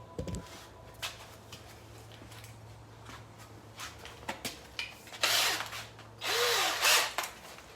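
A sanding belt grinds on a wooden longbow arrow shaft held in an aluminum jig, with short bursts of abrasive rasping and louder stretches near the end, over faint workshop noise.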